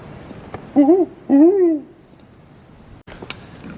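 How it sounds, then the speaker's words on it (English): Two hooting owl calls, played from a recording, sound loud and close, each a short warbling hoot, followed by quieter background noise. "we're going to play owl calls"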